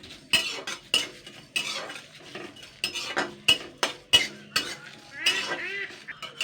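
Fennel seeds, a whole bay leaf and two dried chillies dry-frying in a pan, heard mostly as a series of sharp metal spoon scrapes and clinks while stirring, with only a faint rustle between strokes.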